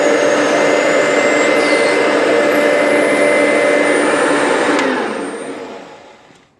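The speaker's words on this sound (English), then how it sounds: "typical of 1980s vacuum cleaners, this is not quiet by any stretch of the imagination" A trash-picked 1980s Hoover Elite 200 vacuum cleaner runs with a loud, harsh, steady motor whine and hum up close, then spins down and fades toward silence near the end.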